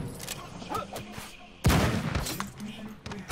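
Gunfire in the video game Madness: Project Nexus, a quick rattle of shots followed by a louder burst, all close and under continuous talking.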